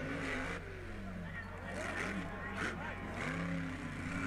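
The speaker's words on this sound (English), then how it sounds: "Listen to the power of those things." Monster truck engines rev at a Monster Jam arena show, with a steady loud roar that swells and falls in waves, heard with a reacting voice talking over it.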